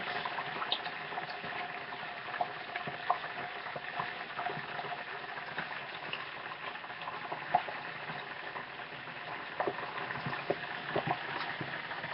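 Chicken frying in a pan gives a steady, crackling sizzle with small pops scattered throughout, continuous and even at a moderate level with no voices.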